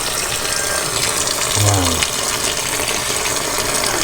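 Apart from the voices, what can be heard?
water being poured in to rinse fish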